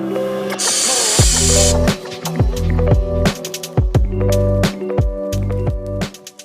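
A rattle-can spray hisses in one steady burst of a little over a second while undercoating a Chevy Suburban with Rust-Oleum gloss black and Dupli-Color truck bed coating, followed by loud, rhythmic music.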